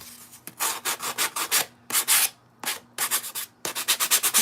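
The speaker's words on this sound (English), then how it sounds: "So I am reusing this. Some of the paint got on here. All right, I am going to sand this." A wooden craft piece is sanded by hand in quick bursts of rhythmic back-and-forth scratchy strokes, with short pauses between groups, close and fairly quiet with a faint steady hum underneath.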